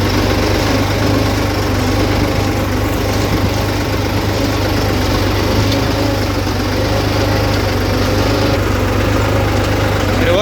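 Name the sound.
New Holland 3630 tractor engine while ploughing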